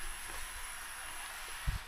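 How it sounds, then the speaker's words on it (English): A rock drill bores into trail rocks to split them on the Appalachian Trail's 100 Mile Wilderness, a steady far-off hiss that runs throughout with a faint high whine above it and one brief thump near the end. "Sometimes they need to drill into the rocks to split them"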